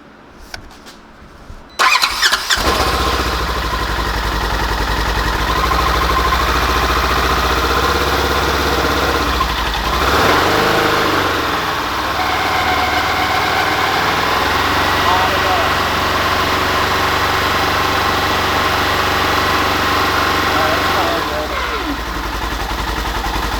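A Polaris Ranger UTV, freshly reflashed with a new tune and fitted with a clutch kit, cranks and fires up, then settles into a loud, steady close-up idle that runs on for about twenty seconds.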